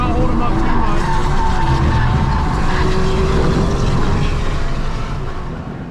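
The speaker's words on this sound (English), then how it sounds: "The Trans Am cars passing Coby are so loud," Trans Am race cars roar loudly past on a racetrack, a dense, sustained engine and tire roar with squealing tones that stays strong throughout and eases slightly at the end.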